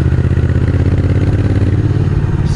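Motorcycle engine while riding a leisure touring bike on Alpine mountain roads near Sallanches and Megève, a steady, loud mid-pitched drone with a pulsing rhythm, close and continuous with no talk.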